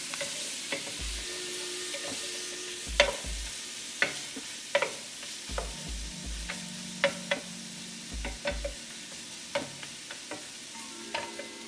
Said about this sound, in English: Now we're going to add our red onions. Just going to add them all, and we're going to cook those down until they are golden brown.